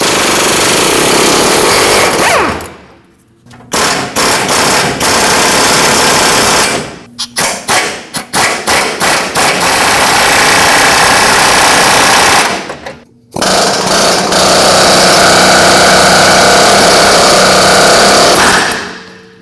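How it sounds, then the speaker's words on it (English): A reciprocating saw with a metal blade cuts through a lower control arm bolt on a Nissan Frontier 2WD, a very loud, harsh, rapid buzzing rattle in long bursts with short pauses and stuttering restarts. "The best way to cut these is with a reciprocating saw and a metal blade"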